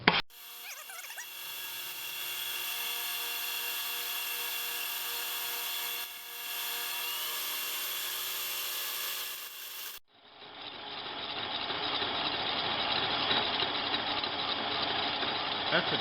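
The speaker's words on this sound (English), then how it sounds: "now we're just going to start making some repeated cuts and get this sliced through" A machine makes repeated cuts to slice through a part while building a center height tool, a steady mechanical whine holding for about ten seconds before a rougher, noisier cutting sound takes over.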